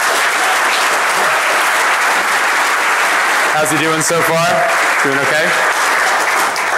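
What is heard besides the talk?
conference audience applause for speaker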